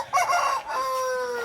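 A rooster on a village farmhouse crows once, loud and near, the call rising and then holding as a long drawn-out note.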